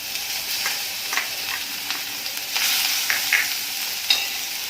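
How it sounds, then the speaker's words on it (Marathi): Cabbage frying in a spoonful of hot oil in a kadhai gives a steady hiss, broken by occasional scraping stirs and small crackles, close and fairly loud. "तेल गरम झालेले आहे तर कोबी घालून घेणार आहे"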